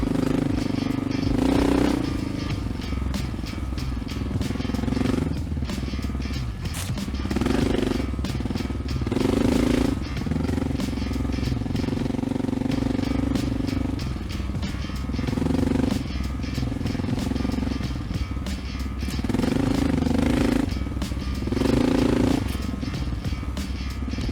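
A Honda XR650L dirt bike rides off-road through deep sand in a national forest, its engine a loud, continuous rumbling roar that rises and falls as the throttle changes, with clattering and wind noise throughout.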